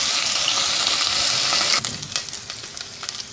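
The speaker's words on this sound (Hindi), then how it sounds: "साथ ही 1 खाने का चम्मच लहसुन अदरक का पेस्ट शामिल कर देंगे। मिक्स कर देंगे अच्छी तरह से और 1-2 मिनट इसको सौते करेंगे।" Whole spices and garlic ginger paste sautéing for aloo gosht give a loud, dense sizzle that suddenly drops after a couple of seconds, followed by softer sputtering and scraping stirs.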